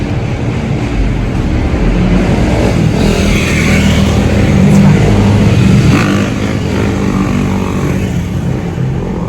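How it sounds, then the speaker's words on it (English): A motorcycle roars past while its rider pulls a wheelie, a loud, steady engine drone that swells slightly mid-pass amid broadband road noise, heard up close from a street in California. "Motorcyclist up on one wheel."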